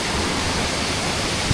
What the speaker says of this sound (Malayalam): ആ വാട്ടർഫാൾ നോക്കി എന്ത് ഹൈറ്റാന്ന്.